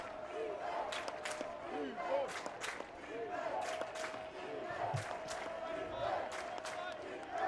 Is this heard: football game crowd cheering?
yes